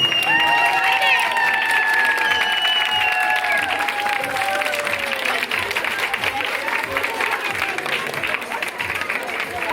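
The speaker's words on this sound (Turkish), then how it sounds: "Şöyle kuvvetli bir alkış hak etmez miyiz?" Audience applause at a women's matinee gathering: sustained, dense clapping from a crowd, with high cheering cries rising early on and voices mixed into the steady roar.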